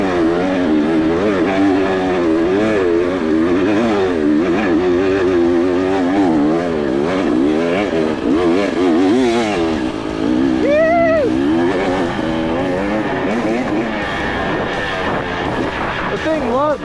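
A modified KTM 300XC off-road motorcycle riding out into the hills, its engine droning loudly and continuously with wavering pitch as the throttle rises and falls, some voices mixed in.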